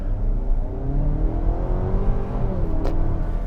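A 2018 GMC Terrain Denali compact crossover pulls away hard from a standstill in two-wheel drive, its engine droning steadily and rising gradually in pitch under constant road and wind noise, with no voices.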